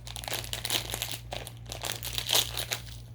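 A candy wrapper crinkles and crackles in short, irregular bursts as it is torn open close by, fairly quiet with no talking.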